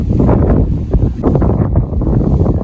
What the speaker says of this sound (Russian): Здесь такой сильный ветер